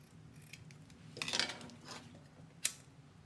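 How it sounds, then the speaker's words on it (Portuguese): Scissors snip through the metal teeth of a zipper while making a French-braid handbag, giving a few crisp clicks and a sharp final snap, quiet and close with no talking. "corto o dentinho do zíper pra facilitar na hora de colocar"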